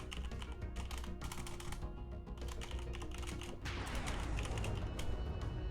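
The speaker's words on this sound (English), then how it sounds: "Sorry, just typing." Steady computer keyboard typing fills the whole stretch, a dense run of quick clicking keystrokes, close and fairly loud, with no voices over it.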